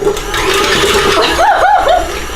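An electric mixer whisking fresh coconut milk for coconut chocolate mousse, a loud, steady close motor whine with a slight rise and fall in pitch toward the end.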